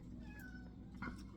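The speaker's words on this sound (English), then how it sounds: "See, Kitty, she wants to go out." A house cat sitting by the door gives a couple of short, quiet meows to be let out, with a faint room hush in the background.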